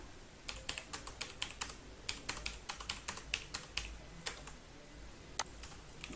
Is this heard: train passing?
no